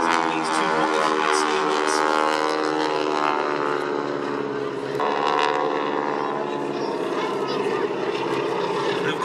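Two modified Stearman-style biplanes with 450 horsepower Pratt & Whitney radial engines, wing walkers strapped on top, rasp steadily overhead at an air show, a loud continuous drone with a slight dip midway.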